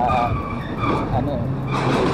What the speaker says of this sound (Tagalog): medyo maingay kasi yung truck